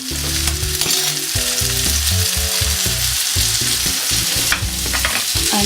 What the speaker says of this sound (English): Again, we'll mix that around.